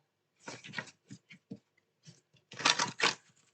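Tarot cards from the Mystical Wisdom deck are shuffled up close in short crisp bursts of papery riffling and tapping, ending in a louder final flurry with quiet gaps between.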